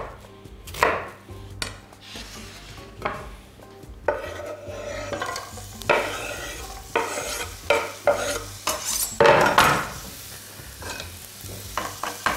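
Evenly chopped onion frying in a pan for a sauce, with a steady sizzle broken by repeated stirring and scraping strokes of a utensil against the pan, heard up close with no talk.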